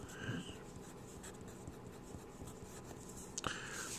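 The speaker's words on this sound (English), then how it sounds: "And I write it again." Quiet pen strokes writing an equation by hand on paper, soft scratchy scribbles with a sharper tap near the end, no talking.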